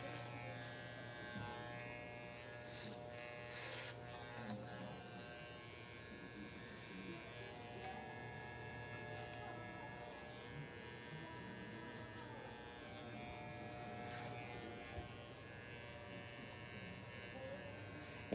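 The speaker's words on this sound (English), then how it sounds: "Clipper over comb is what the technical term is." Electric hair clippers buzzing steadily during a clipper-over-comb tapered haircut, faint and continuous.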